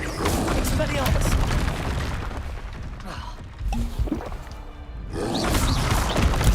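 Confringo spell blasts in the Hogwarts Legacy video game fire as loud booming explosions and crackling combat noise, dense and continuous with a short lull in the middle, while a voice talks over the game.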